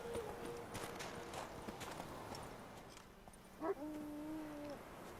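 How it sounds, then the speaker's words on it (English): Faint hoofbeats of a horse in The Witcher 3 clop along steadily in the background, followed by a short whinny-like tone near the end. "Let's try to catch this horse."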